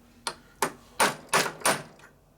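A hammer striking a chisel to free a bearing in a 1977–79 Harley-Davidson Shovelhead four-speed transmission: five sharp metallic blows, close and loud, at an uneven, quickening pace, with no speech.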